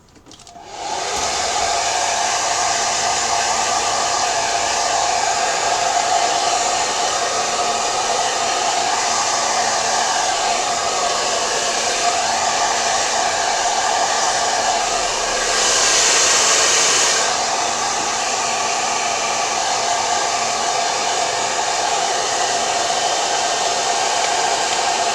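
A hair dryer blows steadily at close range to dry a decoupage paint brush holder, a loud continuous whooshing hum lasting throughout with a brief swell midway and no talking.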